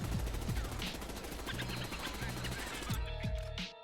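Rapid SMG bursts in the Warzone firing range in Verdansk, with fast continuous automatic fire that pauses briefly near the end and then fades out.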